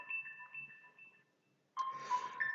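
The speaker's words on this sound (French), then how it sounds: "depuis ce matin, le téléphone n'arrête pas. On va le laisser sonner, il laissera un message." A telephone rings indoors with a steady electronic tone that pauses briefly before a louder burst of ringing, close by and without talk over it.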